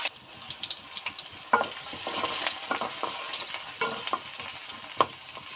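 Chopped onion and green chili frying in a pan of oil for a prawn and Malabar spinach dish, with a steady sizzle and occasional sharper scrapes of a spatula against the pan.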